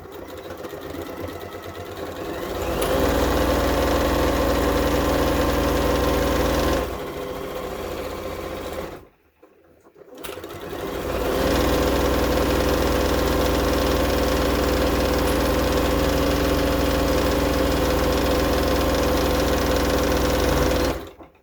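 A sewing machine stitches a turban hair towel in long continuous runs, loud and steady with a steady motor whir, pausing briefly near the middle before starting up again.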